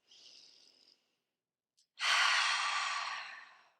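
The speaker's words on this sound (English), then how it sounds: "let's take 5 breaths" Deep breathing during a shoulder stretch for scapula mobility: a soft inhale, a pause, then a long loud exhale close to the microphone.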